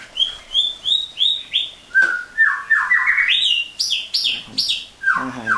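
White-rumped shama birds in a breeding setup, one male and two females, give a rapid run of loud, clear whistled phrases and chirps, rising and falling, close by with no talk.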